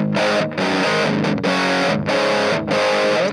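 Electric guitar through a Fender Mini Tone Master amp set to a brighter tone, with gain present: four strummed chords, each ringing for most of a second, played close and loud.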